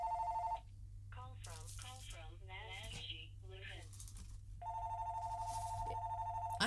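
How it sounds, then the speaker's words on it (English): Two telephones ring indoors in repeated electronic trills, one before and one after a stretch of nearby talking, fairly loud and close. "I have no idea who it is, but I've got two phones in here going on."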